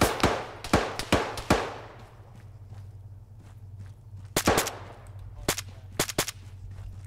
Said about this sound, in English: I had audible shots, southwest.